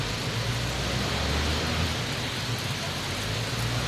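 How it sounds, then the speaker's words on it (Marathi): Heavy monsoon rain pouring down in Dadar, Mumbai, a dense, loud and constant roar of rainfall with a low rumble underneath and no one speaking. "पावसानं आपला जोर किंचितही कमी केलेला नाही"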